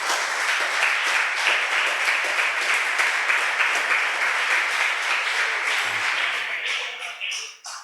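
A church congregation applauds in a dense, sustained wash of clapping that holds steady, then thins and tapers off near the end.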